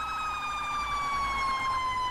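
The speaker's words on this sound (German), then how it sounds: "Die Sirene, ne?" A police siren in a video game wails in a steady, sustained tone, with no talk over it.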